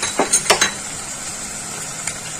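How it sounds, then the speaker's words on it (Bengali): Crabs fry in a pan, a steady close sizzle under a few quick clinks and scrapes of a utensil early on. "এবার আমি ঢাকনা খুলে দেখবো ক্র্যাবগুলো একটু ভাজা ভাজা হয়েছে কিনা"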